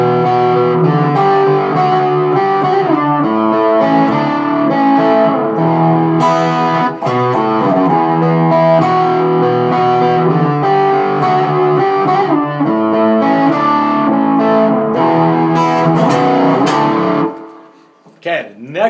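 A distorted electric guitar plays chord-based phrases continuously for about seventeen seconds, loud and up close, with overdriven sustained chords shifting in rhythmic patterns before stopping abruptly.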